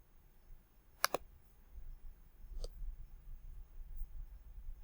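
Two sharp computer mouse clicks in quick succession on a dialog button in Microsoft Access, close and clear over a quiet low room hum, followed later by a fainter single click.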